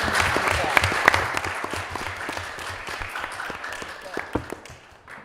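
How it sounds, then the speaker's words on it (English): An audience at an eighth-grade geography bee final applauds the players with dense, steady clapping that thins out gradually toward the end. "A round of applause for our players."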